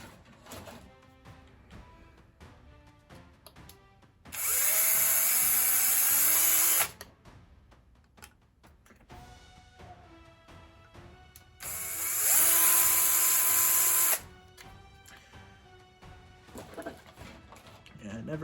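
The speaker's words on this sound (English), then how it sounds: "I gotta drill holes, man." A handheld power drill boring holes in a Tamiya 1:700 scale model of the aircraft carrier Zuikaku, two loud sustained whirring bursts of a few seconds each, with quieter room sounds and a voice talking between them.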